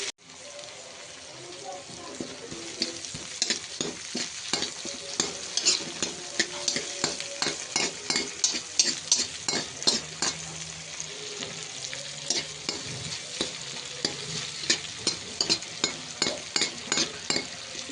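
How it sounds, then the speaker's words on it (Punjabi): Onions frying in hot oil for an aloe vera curry, a continuous crackling sizzle broken by frequent rhythmic scrapes of a spatula stirring the pan, close and fairly loud throughout. "ਆਪਣਾ ਤੇਲ ਹੋ ਗਿਆ ਗਰਮ ਹੁਣ ਆ ਪਾਉਣੇ ਵਿੱਚ ਪਿਆਜ਼ ਇਹਦੇ"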